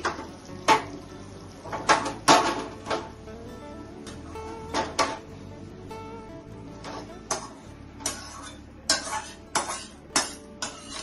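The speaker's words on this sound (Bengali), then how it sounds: "তো এখন আমি ঢেলে নিচ্ছি।" Pumpkin kofta tipped out of a cooking pan in a home kitchen, giving a string of sharp metallic clinks and scrapes of pan and utensil at irregular intervals, fairly close, with no talking.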